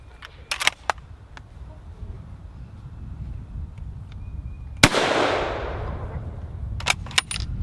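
A single sharp gunshot from a Norwegian Krag 1912 carbine rifle rings out outdoors and decays, preceded and followed by faint clicks and metallic handling noises of the bolt.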